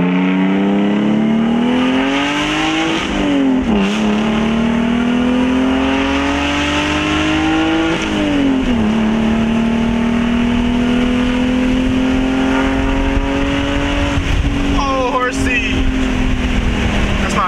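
A roughly 500-horsepower car engine revs loudly and close, its pitch climbing repeatedly with dips between pulls, while people talk over the noise.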